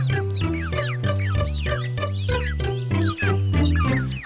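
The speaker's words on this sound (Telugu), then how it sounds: "అయ్యో, శబ్దం కోడి పిల్లలుగా ఉన్నాయే." Cartoon chicks in a Telugu children's animated story chirp and cluck busily, with rapid overlapping peeps over steady background music and no pause.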